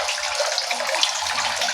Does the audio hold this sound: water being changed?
yes